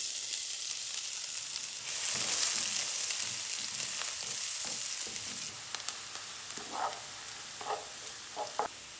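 Onion sizzles in a pan with squid, a close, busy frying hiss broken by stirring scrapes and several short clattering knocks toward the end, with no speech.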